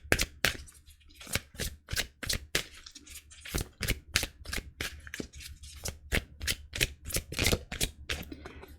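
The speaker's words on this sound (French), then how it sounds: "Je vais conclure le tirage avec les messages de l'univers et l'oracle Angel Guide." Oracle cards, an Angel Guide deck, being shuffled in quick, crisp riffling bursts, a steady run of sharp papery slaps and flutters close to the mic with no talking.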